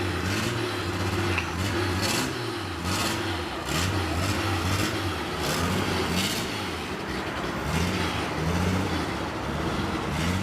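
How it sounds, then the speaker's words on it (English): A carbureted turbocharged car engine with a blow-through setup drones loudly and continuously up close, its pitch rising and falling as it revs. "It's such an interesting sounding car."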